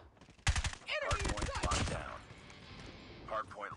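Rapid bursts of automatic gunfire from the video game COD Mobile crackle loudly for over a second, then fade to a quieter background with a few faint later shots. A voice may briefly cut in.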